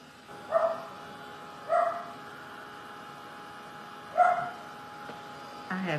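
A dog barks four times in spaced bursts, moderately near, with quiet background between barks.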